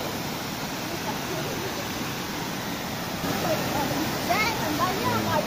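Cold spring water flows and splashes in a steady, loud rush that fills the whole stretch, with no talking heard.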